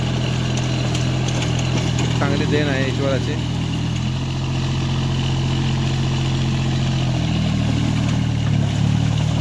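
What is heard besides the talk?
mini rotavator tractor engine running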